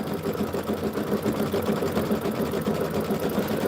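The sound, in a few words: sewing machine stitching quilt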